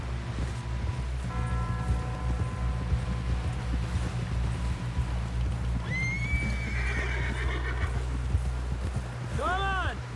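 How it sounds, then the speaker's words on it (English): Rapid hoofbeats of a galloping horse in Red Dead Redemption 2 over a low rumble, with two shrill whinnies breaking through near the end. "Someone help John down off this horse."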